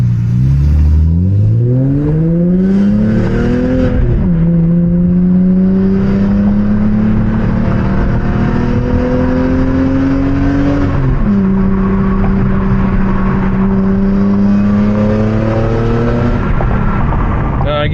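A car driving in the rain, heard from inside: a loud, close engine hum rises in pitch as it accelerates through gears, with a distinct drop at each shift and a steady road rumble beneath.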